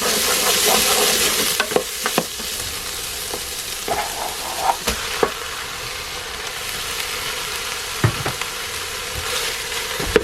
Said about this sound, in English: So just let this saute for about 8 minutes.